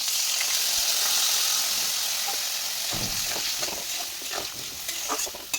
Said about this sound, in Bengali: মশলাটা ভাজতে থাকি, মশলা ভাজা কমপ্লিট